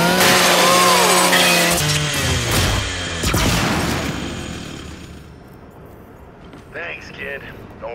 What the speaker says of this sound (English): Just use your Lancer's chainsaw.